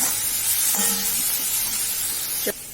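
Tomato and cabbage stir-frying in a pan, a loud, steady sizzle with a few stirring scrapes and a brief clatter near the end.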